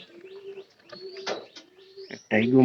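Pigeons coo softly and close by in a series of low, wavering calls with a few higher chirps, and a person's voice cuts in at the end.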